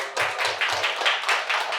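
An audience claps together at a gathering, producing a steady, fairly close patter of many hands that keeps going for under two seconds without any voices.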